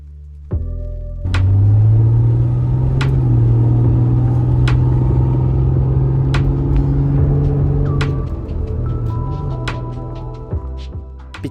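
A 1990s Japanese sports car drives through an industrial area of Osaka, its engine a loud, close in-cabin drone that climbs and holds through acceleration, with brief clicks and shifts in pitch and no talking.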